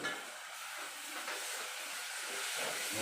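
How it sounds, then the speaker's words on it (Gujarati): Tomato gravy poured into a pan with cooked garlic and green chilies while making Ratlami sev curry, giving a soft, steady sizzling hiss that stays faint and even for a few seconds, with no talk. "હવે ટામેટાની ગ્રેવી નાખી દઈએ"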